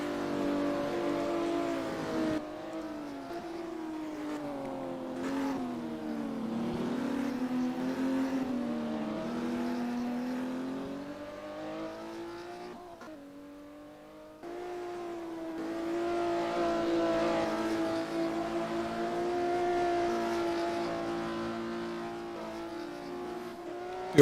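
Classic Porsche Cup race car engine in a sim racing game, revs rising and falling through gear changes and a drift out of a corner, a continuous loud engine drone with a brief dip midway.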